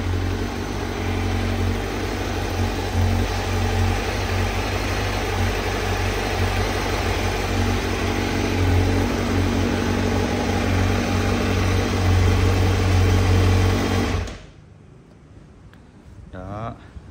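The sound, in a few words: Honda CBR1000RR-R SP motorcycle engine idling, stock exhaust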